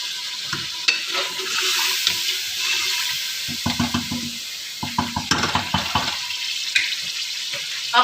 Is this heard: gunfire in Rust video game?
no